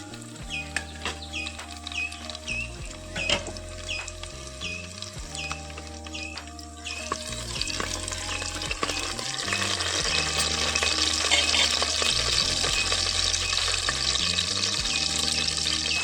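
Garlic drops into hot oil for a village-style Marathi tempering, a steady sizzle that swells louder and denser after the first few seconds and continues over background music, with occasional utensil knocks.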